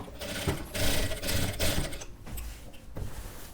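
A sewing machine runs a centre seam on a sharara, close and loud, with a continuous rattling mechanical whir that eases briefly partway through before picking up again.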